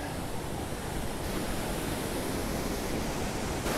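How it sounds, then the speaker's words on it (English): Loud, continuous rushing of a Maine stream near falls along the Appalachian Trail, a broad steady roar filling the whole clip with no voices. "Sorry about the loud rushing water"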